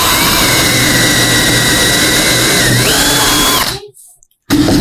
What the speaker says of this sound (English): I'm going to drill a hole in there all the way through